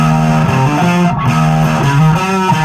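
An Arbiter DC Junior-style guitar with P90 pickups, played through a white face Rat distortion pedal, churns out a loud, thick distorted riff with shifting chords, continuous and close.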